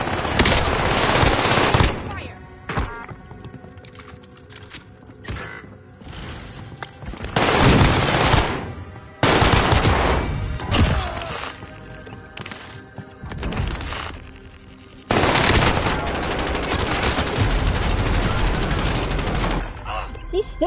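Heavy automatic gunfire from enemy soldiers in the Warzone shooter game comes in long, loud bursts of rapid shots separated by brief lulls, with a player's voice talking at times.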